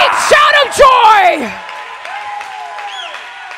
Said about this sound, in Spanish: give him a great shout of joy.